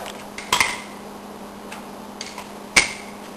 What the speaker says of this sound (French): Il faut brasser.